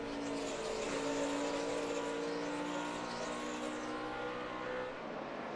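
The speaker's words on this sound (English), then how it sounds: "Clint Boyer going past Martin Truex" NASCAR Sprint Cup stock cars race at Charlotte during the 2010 Coca-Cola 600, their engines making a dense, continuous roar with pitch swells as cars pass by.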